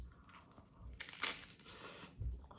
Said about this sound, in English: Combination of the cooked and the fresh crunchy like lettuce is delicious.